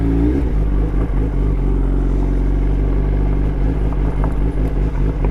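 A 2019 Kawasaki ZX10R fitted with an M4 cat-delete slip-on exhaust rides on a wet road, its engine droning loud and steady throughout with gear-change dips and a continuous rumbling exhaust note up close.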